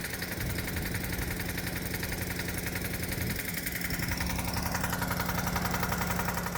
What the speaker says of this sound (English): Let's see how the lawnmower does